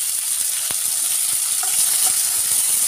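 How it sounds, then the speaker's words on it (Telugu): Curry leaves and cumin seeds frying in oil in a pan for a mutton curry, a close, steady bright sizzle with a few faint stirring taps and no talking. "కరివేపాకు వేసుకొని బాగా కలుసుకోవాలండి. మంచిగా వేగే వరకు వేగించుకోవాలి."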